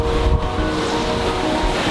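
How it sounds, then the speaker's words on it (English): Rough ocean waves in bad weather make a loud continuous roar and rumble mixed with wind noise on the microphone, heard close with no talking. "I don't think we've had waves this bad in a long time."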